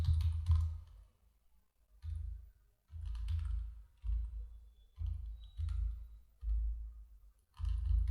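Keystrokes tapping figures into a spreadsheet on a computer come in short, close bursts of clicks separated by brief pauses, with no talking.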